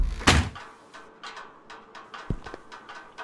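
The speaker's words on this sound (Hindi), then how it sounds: "बंद कर दे दरवाजा" A door in the horror game Visage shuts with a sharp thud, followed by quieter knocks and clicks against a hushed room.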